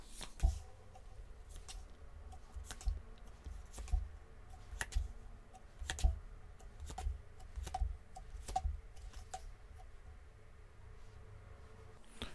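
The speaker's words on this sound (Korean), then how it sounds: "제가 카드 뽑아볼게요" Tarot cards handled during a reading, with crisp snapping and clicking taps that repeat at a loose, uneven rhythm over a low steady hum, close and fairly quiet, no speech.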